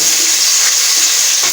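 Onions dropped into half a cup of hot oil in a pot for an aloo matar gajar vegetable dish, a loud, dense sizzle close up throughout the short moment.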